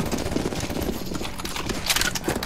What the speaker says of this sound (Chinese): 边走继续开枪。